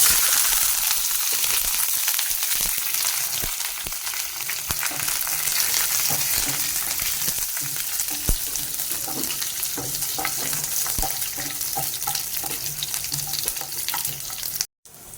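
Onions and curry leaves frying in hot oil for dal, a steady close sizzle and crackle running throughout with occasional stirring clinks and light watery splashes.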